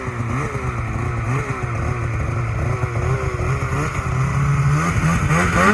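A broken Polaris snowmobile engine revs close by with a loud, wavering, rising and falling motor roar that carries on steadily without pause.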